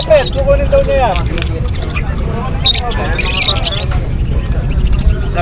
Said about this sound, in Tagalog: Maganda ng mga ibon sa mga mahilig sa ibon.